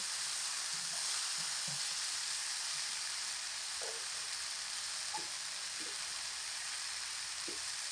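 Malabar spinach seeds frying with garlic, chili and turmeric in hot oil, a continuous even sizzle with a few soft stirring scrapes, close and steady with no talk.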